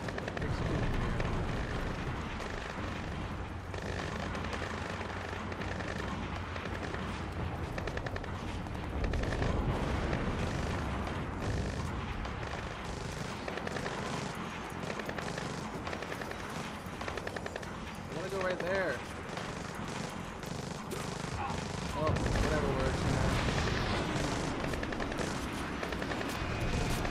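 Gunfire and explosive bursts crackle through a Splinter Cell Blacklist firefight, dense rattling volleys and booms mixed with game effects while a person talks over the action.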